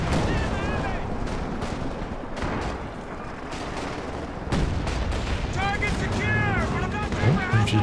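A Katyusha rocket barrage in the Company of Heroes 2 real-time strategy game during a 2v2 match. Dense rolling explosions and launches carry on continuously, with whistling streaks overhead and a heavier burst of blasts midway.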